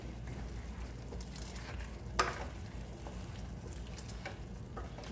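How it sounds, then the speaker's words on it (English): Salted food cooking in a pan for creamy chicken and shrimp pasta with bacon, giving a steady low sizzle with a brief scrape of stirring partway through, heard alone at moderate distance. "And just stir all that up."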